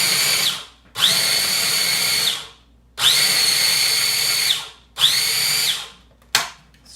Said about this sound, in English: And you're gonna pulse it just a couple times.